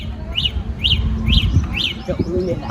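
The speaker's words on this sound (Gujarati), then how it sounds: "પેલા ધનભાઈ હો એટલે પેલું વગાડજો પેલું ચકલું" A sparrow chirping sound effect plays as four evenly spaced, loud, close tweets followed by softer fading chirps, over a low rumble.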